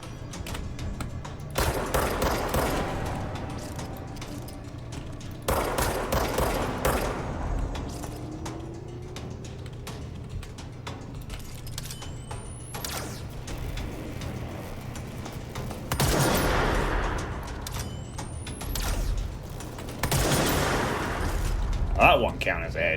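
Sniper and other gunfire in the game Control, heard as repeated bursts of shots and crackling impacts spread through the clip over a steady low background, with someone talking between them.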